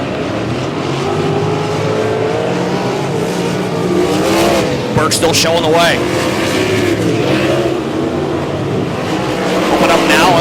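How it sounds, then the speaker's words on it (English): 410 sprint cars in the POWR WAR series roar around Humboldt Speedway in a continuous loud drone of engines, while a commentator calls the race over the noise. "Cars now starting to move to the high side of the speedway as we pick up speed here in your 410 War Sprint Series."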